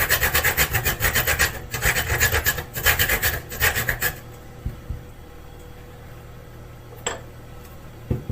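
A whole nutmeg is grated by hand for carrot and cinnamon cupcakes, making close, rhythmic rasping strokes that scrape steadily for several seconds, then stop into near quiet with a faint tick afterwards.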